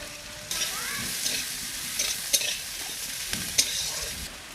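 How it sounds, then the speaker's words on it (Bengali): Onions and whole green chillies sizzle in mustard oil in a wok, a steady crackling fry with occasional clacks of a stirring spoon, heard close and without talk. "পেঁয়াজগুলো ভাজা হয়ে গেছে,"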